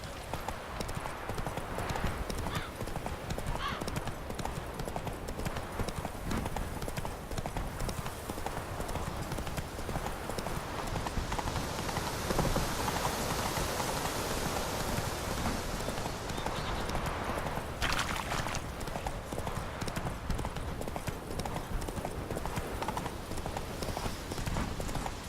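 Roach the horse galloping in The Witcher 3 video game, rapid rhythmic hoof clip-clops continuing steadily throughout, fairly close, with a brief whinny-like swell in the middle and game ambience underneath.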